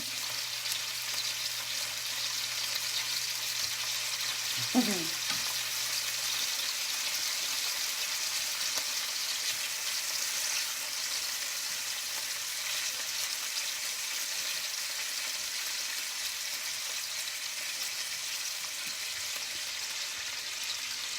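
Shrimp cooking in a pan, with a steady, soft frying sizzle running evenly throughout and one brief clink partway through.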